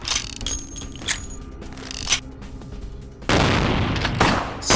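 Gunfire in the World of Darkness video game comes as loud, sharp shots and booming bursts with mechanical clicks between them, ending in a dense sustained volley of fire.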